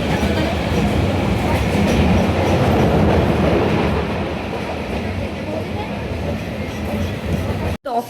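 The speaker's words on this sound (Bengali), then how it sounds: "তাই আমি ট্রেনে উঠে পড়েছি।" A local train rides near Bidhannagar, steady loud rumble and rhythmic wheel clatter filling the whole stretch, easing slightly partway through, with a brief sharp break near the end.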